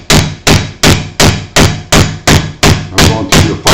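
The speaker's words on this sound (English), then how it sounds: "And then just start nailing it through, and you can see that it's pulling it up here and chiseling it away." A wooden peg being hammered through a hole in a workshop, ten sharp, evenly spaced blows about every 0.4 seconds, loud and close with no talking.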